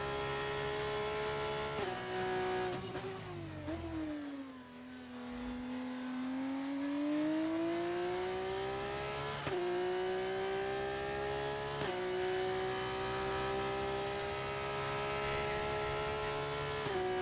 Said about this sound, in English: Is that what it normally sounds like for the F2 car?